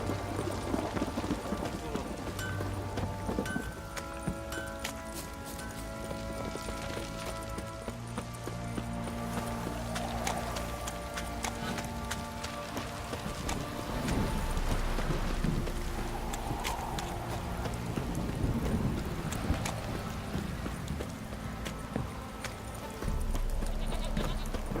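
Horse hooves clip-clop steadily in The Witcher 3: Wild Hunt on a rainy ride, a continuous rhythmic clopping beneath dense game music and ambience.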